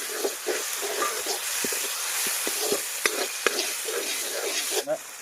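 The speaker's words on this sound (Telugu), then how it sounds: "కర్రీ కూడా తిప్పేసుకున్నామండి. కర్రీ కూడా బాగా దాంట్లోనే టమాటా పేస్ట్ వేసుకున్నామండి." Tomato curry with tomato paste, green chillies and curry leaves sizzles and hisses in a pan as a spoon scrapes and stirs it in short repeated strokes, heard up close.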